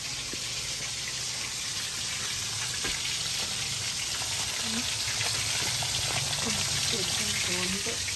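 Steady, close sizzling of food frying in a hot pan, a continuous crackling hiss with a few faint higher tones near the end.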